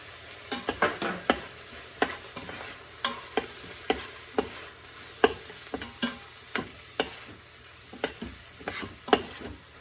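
Spices sizzling in hot oil in an Instant Pot for a chicken tikka masala, a steady low frying hiss broken by repeated sharp stirring clicks and scrapes roughly every half second, no talking.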